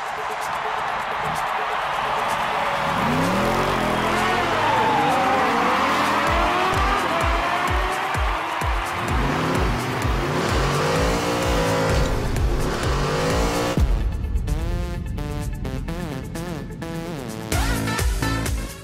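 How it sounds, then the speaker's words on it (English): Rocket-powered cars in the soccer-style game Rocket League roar and rev, with engine sweeps, tire squeals and skids piling up under continuous talk, loud and busy from start to finish. "It's soccer with rocket-powered cars meets a demolition derby."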